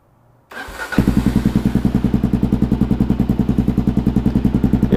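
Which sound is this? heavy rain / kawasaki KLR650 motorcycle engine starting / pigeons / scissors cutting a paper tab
kawasaki KLR650 motorcycle engine starting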